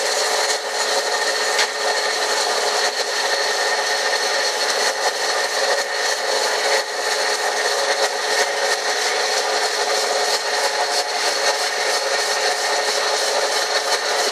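A Brown & Sharpe No. 1 cylindrical grinder runs steadily with a constant, dense high-pitched whir and hiss of the wheel against metal, loud and close, with no pauses or speech throughout.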